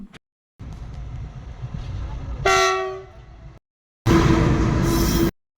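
Train at a railway level crossing sounding a loud horn blast, followed by the rumbling rush of the passing train, with cut-off gaps between sections.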